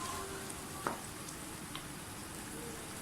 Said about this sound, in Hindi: दही डालकर थोड़ा सा भूनें